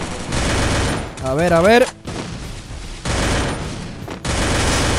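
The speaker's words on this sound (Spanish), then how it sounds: "Por acá hay disparos, bro" Gunfire in the battle-royale game Free Fire: rapid bursts of shots crackle through most of the stretch, dropping out briefly in two short gaps, while a voice speaks over the middle.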